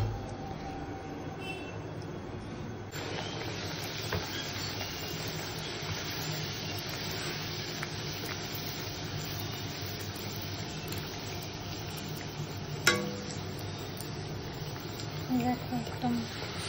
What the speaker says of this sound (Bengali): এবারে লুচি ভাজা হচ্ছে, ছোট্ট ছোট্ট ফুচকার মতন